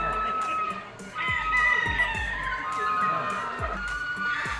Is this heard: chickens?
yes